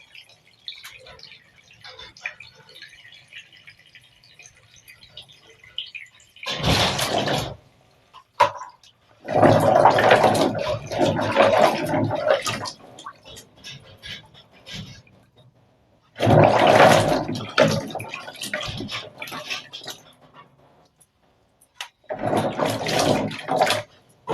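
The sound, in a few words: water poured into a pot to wash palm fruits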